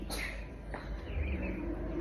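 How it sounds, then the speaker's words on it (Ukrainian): Morning birdsong outdoors: a few faint, high chirps near the start over a low background rumble, distant and quiet. "Вийшла ранкові звуки пташок послухати пісеньки"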